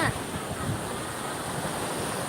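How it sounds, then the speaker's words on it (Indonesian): Ocean waves washing onto a beach, a steady broad rushing wash close by with some wind noise on the microphone and no clear speech. "Ayo ombak, masuk dong, air ombak."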